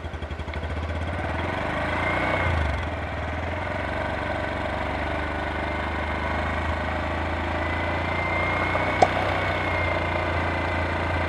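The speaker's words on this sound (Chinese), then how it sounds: "那我们大概吹个1/3的油门" A Honda Cup 125 motorcycle with its stock exhaust runs at about one-third throttle. The engine drone swells briefly, then holds a steady, close hum for several seconds with a single faint click and no voices.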